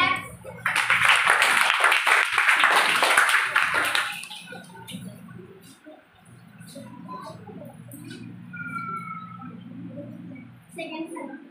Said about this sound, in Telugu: క్లాప్స్